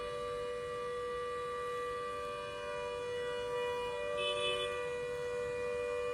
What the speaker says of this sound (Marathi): यावेळी सायरन वाजवण्यात येणार आहे.